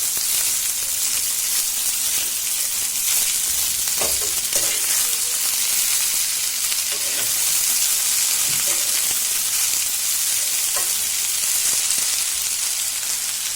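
Washed fenugreek greens fry in a pan over medium gas, making a loud, constant sizzle, with occasional soft scrapes and taps as they are stirred and turned from bottom to top.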